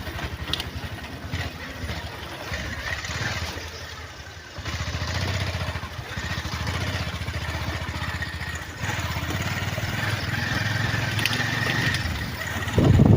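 A motorcycle labours along a muddy hill road in Mangsing with a passenger riding behind. Its engine drones steadily and close by, rising and falling with the throttle, with no talk.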